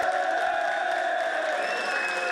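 A wrestling expo audience cheers and whoops steadily, a dense crowd roar holding at a constant level throughout with no clear pauses.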